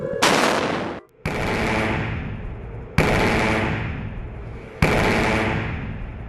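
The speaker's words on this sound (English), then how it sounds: "Here's a demonstration of a real railgun by the US Navy." US Navy railgun test firings, three to four huge booming blasts spaced a couple of seconds apart, each a sharp loud crack followed by a long rolling roar.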